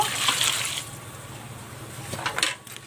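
Small live pond fish are poured into a basket with a splashy rush of water and wet slapping, easing into a quieter trickle before a second brief splash near the end.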